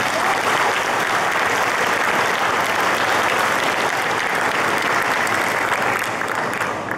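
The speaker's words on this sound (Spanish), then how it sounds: "Un gran y fuerte aplauso." A crowd at the official opening of an agricultural show applauds loudly and steadily, dense clapping filling the space for several seconds with no voices on top.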